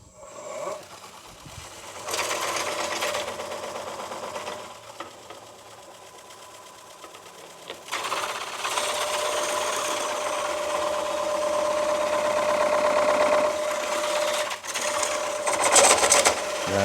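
A wood coring tool cuts into a spinning bowl blank on a lathe, giving a loud, steady grinding rasp that starts after a couple of seconds, eases briefly, then runs continuously and strongly to the end.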